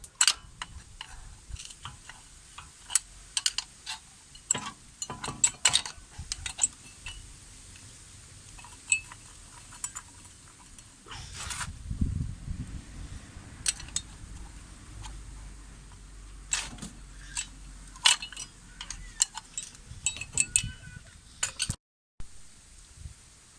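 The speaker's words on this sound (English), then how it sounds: "So now we can remove this old pad from the caliper." Metal clinks, ticks and scrapes while the old front brake pad is pried out of the caliper on a 2003–2008 CL7 Honda Accord. The taps come in irregular close bursts, with a short denser scraping stretch partway through.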